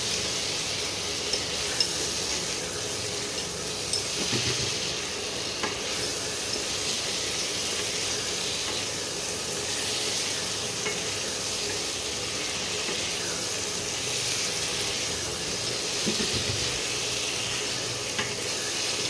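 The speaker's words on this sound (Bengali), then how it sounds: "মশলার সঙ্গে ভালো করে আলু আর কপিটাকে কষিয়ে নেবে" Fried potato and cauliflower pieces being sautéed with spices in a pan, a steady low sizzle running throughout with occasional scrapes of a spatula, no voices.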